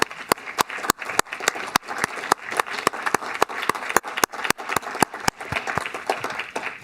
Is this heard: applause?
yes